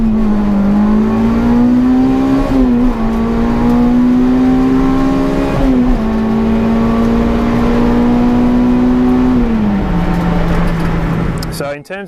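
A Honda Civic EG6 SiR engine drones loud and close, its pitch climbing steadily through each gear with short dips at the shifts, heard from inside the car with no talk over it.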